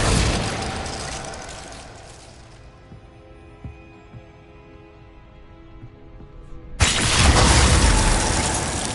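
Confringo spell in Hogwarts Legacy: a loud bursting blast cuts in sharply and roars on with crackling debris, after a quieter stretch of soft clicks and game sounds.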